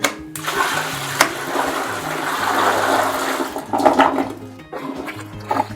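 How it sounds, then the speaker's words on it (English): Dirty mop water dumped down a household toilet, then a loud flush that rushes and gurgles close by for several seconds before draining off. "put the rest of your clean water in with a dirty bucket, and then you can just dump it down the toilet"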